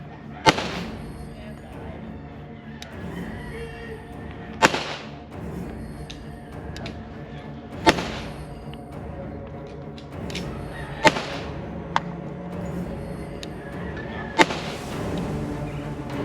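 Tisas 1911 Duty .45 ACP pistol firing at a range, a slow cadence of single loud shots spaced a few seconds apart, about six in all, each a sharp crack with a short ringing tail over steady background noise.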